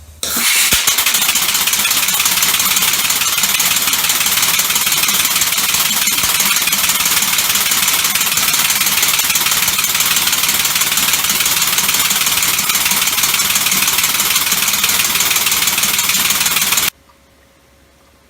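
A five-cylinder compressed air car engine running on three cylinders at 200 psi gives a loud, steady, dense mechanical chugging and hiss that continues without a break until it cuts off abruptly near the end.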